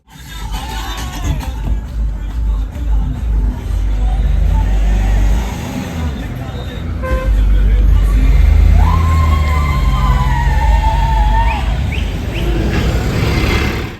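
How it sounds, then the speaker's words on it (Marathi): A convoy of cars sets off near Harnai Beach at night, loud rumbling engines and road noise close by, while voices and crowd chatter carry on throughout. "आपला हा गाड्यांचा काफिला निघालेला आहे"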